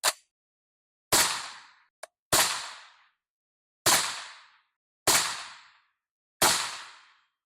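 CZ Bren 2 MS rifle firing .223 PMC Bronze ammunition: six sharp, loud single shots spaced about a second apart, each with a short decaying echo, plus one tiny click between them.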